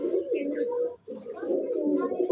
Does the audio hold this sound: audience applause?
no